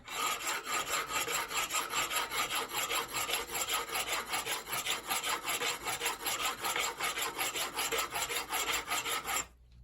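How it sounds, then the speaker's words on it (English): A hand file rasps steadily back and forth over a filthy steel pin from a BT Rolatruck pallet truck, scraping off dirt in a fast, even rhythm of close, loud strokes that runs almost nonstop before stopping abruptly. "I'll show you how I do it with a file"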